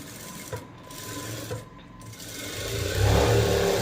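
Sewing machine stitching a blouse for Aari work, a steady mechanical whirr with a couple of brief taps near the start that grows louder and denser toward the end, with no talking.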